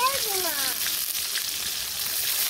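Hot oil sizzling as food fries in a village kitchen, a steady broadband hiss running the whole time, with a voice briefly audible at the start.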